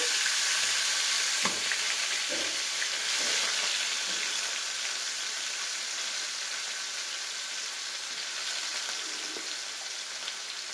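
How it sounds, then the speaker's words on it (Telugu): Prawns frying in hot oil for a prawn biryani, a loud, dense, continuous sizzle and crackle that fades only slightly over time, with occasional soft knocks from the pan and no talking. "ఆయిల్లో ప్రాన్స్ అయితే వేసేసుకుందాం"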